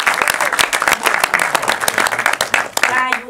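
A burst of lively applause and clapping, loud and close, fading out at the very end.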